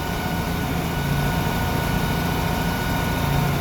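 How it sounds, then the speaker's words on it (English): A small two-wheel-drive tractor engine idles nearby, a constant, even mechanical hum and rattle with no change in pace and no voices. "nice little tractor."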